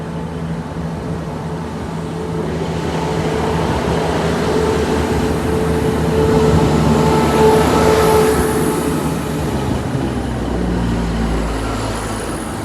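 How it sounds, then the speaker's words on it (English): A Northern train service to Scarborough moves through Sheffield station with a steady diesel engine drone and rolling wheel noise that swells toward the middle and fades, loud and close. "The 10:57 Northern train service to Scarborough"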